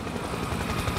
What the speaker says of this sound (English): Incoming helo.